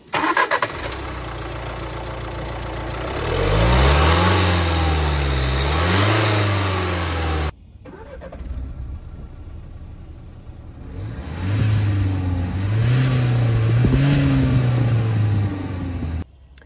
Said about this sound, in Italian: Passiamo adesso al test accensioni e fumi negli scarichi.